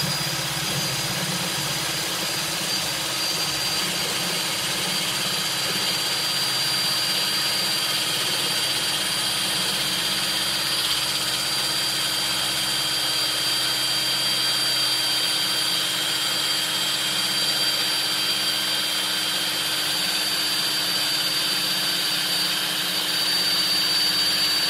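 A power drill drives a homemade wooden dowel through a hole, giving a loud, continuous whirring and grinding drone that holds steady with no pauses.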